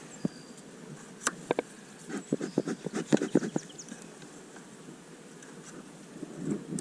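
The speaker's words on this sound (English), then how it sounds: "So a good number of bees. Bees pretty much on all frames there." Honeybees around an opened hive while frames are inspected, a faint steady buzz beneath scattered clicks and handling knocks nearby, with some wind noise on the microphone.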